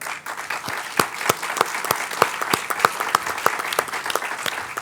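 An audience clapping at a facility grand opening, a scattered burst of distinct hand claps at an uneven, lively rhythm, fairly close and clear.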